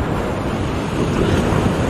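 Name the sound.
waves breaking on a beach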